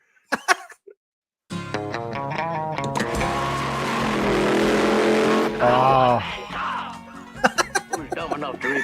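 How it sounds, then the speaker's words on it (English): The engine of a 1969 Dodge Charger roars loudly for several seconds, with rising revs after a brief silence, and laughter and talk come in around it. "I just want to hear the engine of the '69 Charger roar"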